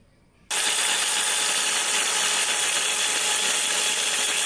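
A mixer grinder starts abruptly and whirs at a loud, constant high-pitched roar, grinding nuts into a paste for a pomfret fish molly, close by with no talk.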